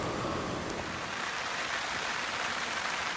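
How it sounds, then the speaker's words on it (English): Steady rain falls on a garden after a long dry spell, a dense even hiss of drops hitting leaves and soil, close by and unbroken, with no voices. "After weeks and weeks and weeks of no rain, we are finally getting some rain."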